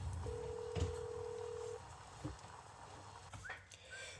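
Telephone keypad tones: a single sustained dial tone lasting over a second, followed by faint, brief tone blips against a low background hum.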